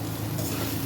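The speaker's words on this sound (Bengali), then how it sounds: "লাল শাক ভাজা হয়ে এসছে" Red amaranth greens frying in a pan, a brief, dense sizzle with faint stirring, close and continuous for under a second.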